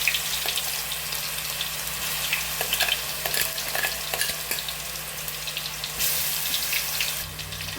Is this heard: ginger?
yes